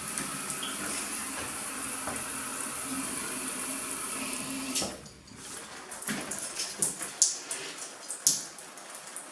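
Steady hiss of water running from a tap in an empty apartment, constant for several seconds, then easing off into uneven splashes and drips as the flow changes.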